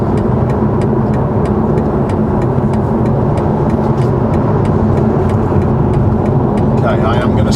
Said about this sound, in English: Now I am accelerating a little bit because I don't want to cause problems here